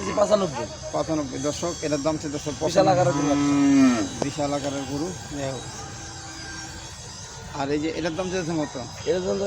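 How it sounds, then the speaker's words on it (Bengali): A red heifer lets out a long, loud moo amid a busy crowd at an outdoor cattle market in Demra, Dhaka, with people talking nearby before and after the call. "এই যে একটা বকনা গরু দেখতেছি"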